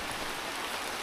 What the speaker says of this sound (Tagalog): Hindi na tumila ang ulan.